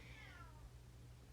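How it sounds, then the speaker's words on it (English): A pet cat gives a single quiet meow with a falling pitch, heard alone at a distance over a low steady room hum with no talking. "that is my cat"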